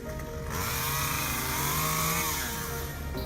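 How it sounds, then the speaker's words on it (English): A chainsaw cuts through tree limbs in a flood, run by rescuers standing in waist-deep water. It runs loudly and continuously, its buzzing pitch rising and falling as it bites into wood, close by with no talking. "The rescuers cut the tree limbs with a chainsaw"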